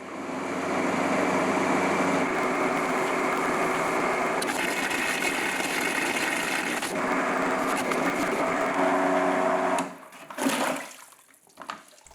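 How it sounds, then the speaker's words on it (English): A glaze mixer churns ceramic glaze inside a wide bucket with a loud, continuous whirring motor and sloshing for about ten seconds, then winds down and stops, leaving faint clatter. "All of this is then thoroughly combined with a glaze mixer"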